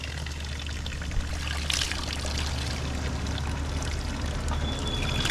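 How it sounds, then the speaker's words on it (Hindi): Water gushes from cracks in a mountainside at Jhanjal along the Karakoram Highway on the way to Gilgit, a close, steady roar of pouring and splashing that holds at an even loudness throughout, with no talk. "उनके बीच में से ये पानी आ रहा है।"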